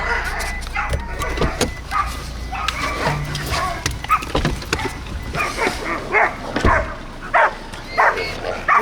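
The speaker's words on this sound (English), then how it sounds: "He's got a hold of a dog." A hunting pig dog barks and whimpers in close, repeated yelps and cries amid rustling and scuffling, with someone talking over the noise.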